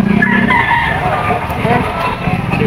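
Chickens and a rooster crow and cluck at an outdoor poultry and pet market in the Philippines, the calls loud and close over a busy background with a voice talking.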